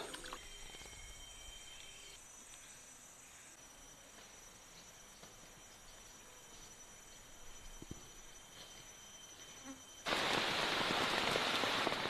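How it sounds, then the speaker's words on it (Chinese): Steady rain patters on leaves and surfaces in a tropical rainforest with faint insect chirps behind it, then the downpour suddenly grows louder and heavier near the end. "一大早上起来就在下雨"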